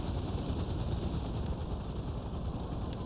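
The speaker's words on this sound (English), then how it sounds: "I'm gonna blow up this helicopter, so nobody panic." A helicopter flies in the video game GTA Online, its rotor producing a steady, fairly faint throbbing chop over a dense rumbling background for a few seconds.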